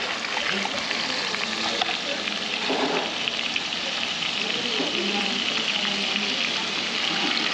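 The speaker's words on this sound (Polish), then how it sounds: "on jest w takim garku i on skwierczy" Steady, close sizzling and crackling of rabbit frying in a hot pot, continuous throughout with a dense hissing texture.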